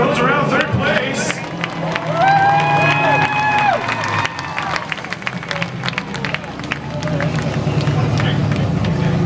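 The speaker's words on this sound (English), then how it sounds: "Give a huge round of applause as he rolls around 3rd place." A crowd at a drifting event at Meridian Speedway cheers and applauds, a loud wash of clapping and shouts mixed with a tire squeal, with an announcer talking over it.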